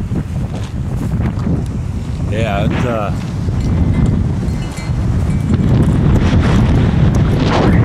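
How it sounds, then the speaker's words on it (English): Strong wind buffets the microphone in a constant low roar, with a brief spoken remark and a faint whistle-like tone partway through. "I mean, it's really windy. Really windy."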